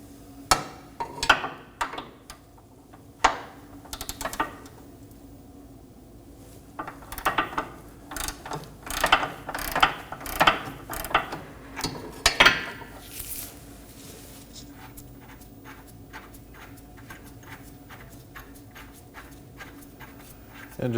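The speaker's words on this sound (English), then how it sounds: "Do the same, break it free with your 19mm." A ratchet wrench with a 19mm socket works a rear subframe bolt on a 2020-or-later Toyota Corolla, giving rapid close clicking bursts and sharp metallic knocks, then a steady run of even ratchet clicks.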